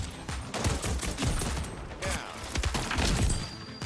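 Gunfire in a first-person shooter video game, with rapid bursts of shots and mechanical clicks close up for a few seconds, without talk.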